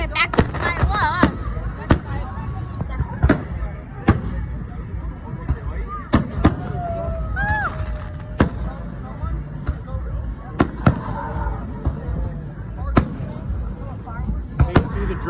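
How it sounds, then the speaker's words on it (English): Fourth of July fireworks going off in a steady series of sharp bangs and pops spread across the stretch, some nearer and louder, with people chatting underneath. "Okay, back to fireworks."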